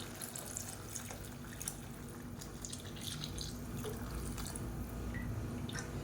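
Liquid trickles and splashes steadily as a dissolved mixture is poured into a pan of sautéed tomatoes for a South Indian fish curry, a soft, continuous pour with faint drips.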